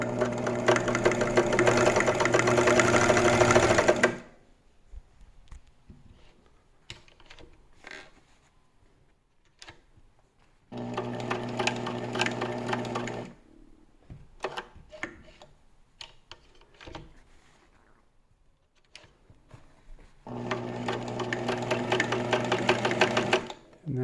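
Elna T SP 72C sewing machine stitching a wide zigzag: three loud bursts of fast, rattling mechanical stitching lasting several seconds each, separated by quiet pauses with light clicks and handling noises.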